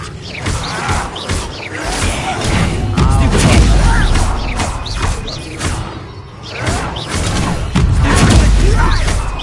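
Fiery Incendio spell blasts in Hogwarts Legacy, a series of loud whooshing bursts and crashing impacts that come one after another in quick succession, with no talk over them.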